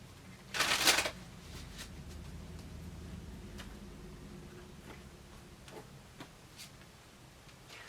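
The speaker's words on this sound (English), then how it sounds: "One more shuffle." A brisk riffle of tarot cards bursts out once, followed by faint scattered taps and ticks as the deck is handled quietly.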